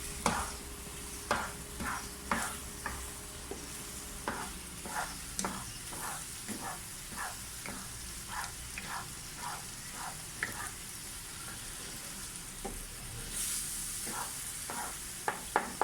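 Pumpkin halwa cooks in a pan after sugar is added, with a steady low sizzle broken by frequent stirring scrapes and small splatters, close and unhurried.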